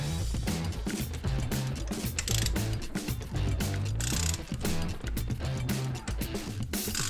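A ratcheting torque wrench tightens head bolts on a 4.7 engine, rapid repeated clicks in short strokes, close and clear, with no talking.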